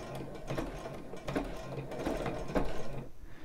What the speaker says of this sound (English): when you go in reverse, put your machine to backstitch